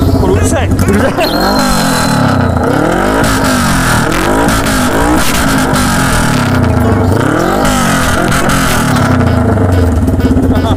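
A bored-out Suzuki GS400 motorcycle engine revs repeatedly, rising and falling in pitch with loud, throaty bursts close by, while voices talk over it, at Kusaki Dam, Japan.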